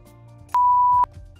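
A single steady electronic beep lasting about half a second, clear against a quiet background hum.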